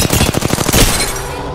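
Rapid automatic gunfire from an Apex Legends match, a dense, loud burst of evenly spaced shots that stops abruptly and trails into a fading echo.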